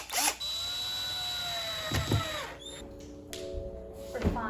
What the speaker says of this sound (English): But we gotta drill some holes.